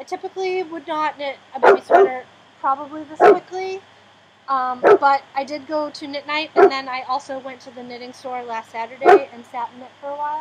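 A police car siren wails, rising and falling repeatedly over steady engine and traffic rumble at Beaulieu Supercar Weekend, sweeping up sharply again near the end as it grows louder.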